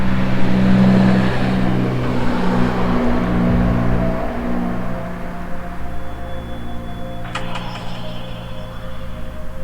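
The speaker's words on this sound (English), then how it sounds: "Wait till the car goes by." A car passes nearby, its low engine and tire rumble swelling and then fading over several seconds, with faint background hum and a brief high electronic tone near the end.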